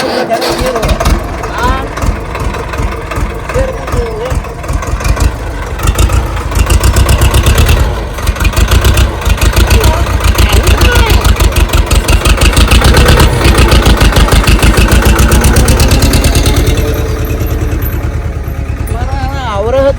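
A Hilander tractor engine runs with a close, loud, rapid chugging beat that holds steady, while voices talk over it.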